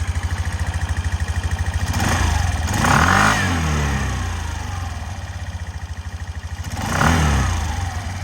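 A Suzuki Address V125 G scooter engine idles with a rapid, even putter, briefly revving up twice before settling back to its steady idle, close by.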